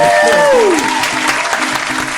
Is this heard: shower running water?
no